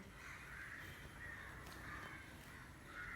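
A crow caws repeatedly in short, evenly spaced calls, fairly clear over a steady outdoor hiss.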